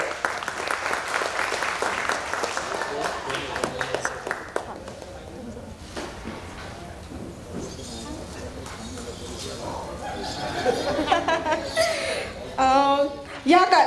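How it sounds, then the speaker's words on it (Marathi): Audience applause at a bohada folk dance performance, a dense crowd clapping under a buzzing sound system, with laughter and children's voices, swelling louder near the end. "जोरदार टाळ्या होऊ जाऊ दे."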